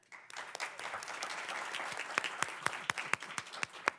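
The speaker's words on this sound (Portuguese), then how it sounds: "gostaria de pedir também uma salva de palmas para o nosso terceiro entrevistado, Pedro Ayara" A conference audience applauds an interviewee, clapping swelling from a quiet start into a full, steady round with a few sharp claps standing out near the end.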